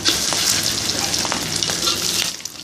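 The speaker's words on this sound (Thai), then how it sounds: "แล้วเขาก็เสียเอาลงไปทอด" Balls of seasoned sticky rice fry in hot oil with a steady, loud crackling sizzle throughout, with a few sharper pops and spatters standing out over the continuous bubbling.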